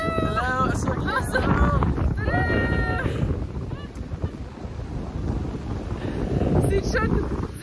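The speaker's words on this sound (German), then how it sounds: "Aber es ist so krass windig." Strong, cold wind buffets the microphone on a seashore, a steady loud rushing roar with gusts and possible surf underneath, while voices speak over it in the opening seconds.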